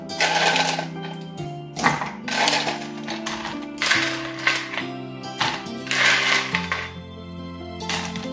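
Ice cubes dropped into a glass while making a lychee Yakult drink, giving a run of bright clinking and cracking hits over several seconds, close and fairly loud, with a low steady hum underneath.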